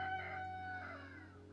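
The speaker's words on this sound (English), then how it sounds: "Even with a cockerel." A single cockerel crows once in Italy, a drawn-out call that tails off, heard alone and fairly faint.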